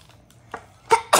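Two sharp sneezes close together near the end, following a softer breathy burst, with quiet room noise between.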